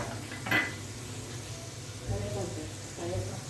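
Tempering spices are tipped into a pan of fried peanuts for an atukulu snack, giving a faint clatter and stirring scrape followed by a soft sizzle, with a voice talking over the quiet kitchen sounds.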